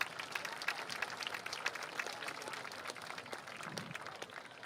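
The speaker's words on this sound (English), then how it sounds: "Let's give another round of applause for inductee Gilbert Boss Green." Applause for a Hall of Honor inductee at a small-town sports event, a moderate crowd clapping steadily for a few seconds with scattered individual claps standing out.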